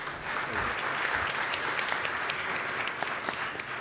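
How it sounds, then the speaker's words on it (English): An audience at an AI for Social Good conference session claps in sustained, even applause to welcome speakers, a dense crackle of many hands filling the room. "So please give a nice warm round of applause to welcome our speakers."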